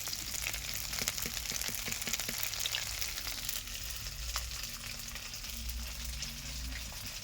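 Chicken pakoras frying in hot oil give a continuous, fairly soft crackling sizzle that holds steady throughout, with no voices.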